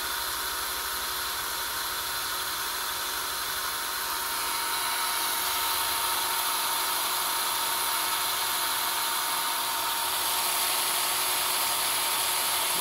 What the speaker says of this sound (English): let me see if I can take this power drill, spin that, and show you what the odometer's doing.